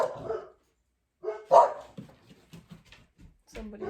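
Several dogs bark in short, sharp bursts with gaps of quiet between them, fairly close by, mixed with a few higher yips and whimpers.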